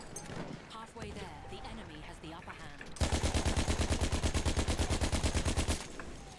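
Automatic gunfire from Battlefield 1 breaks out mid-clip in a loud, rapid burst of evenly spaced shots lasting about three seconds, preceded by a jumble of game noise and muffled voices.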